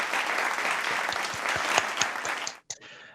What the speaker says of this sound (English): Mike, go ahead and clap for him.